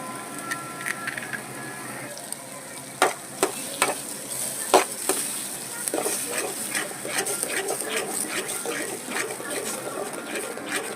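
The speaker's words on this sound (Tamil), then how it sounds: "இப்போ ஒரு 4 முட்டையை உடச்சி ஊற்றிக்கலாம்" Eggs sizzle and fry in a hot pan under a steady hiss, with several sharp taps and clinks from cracking and a utensil striking the pan scattered throughout.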